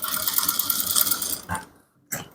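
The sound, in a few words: sewing machine stitching a trouser panel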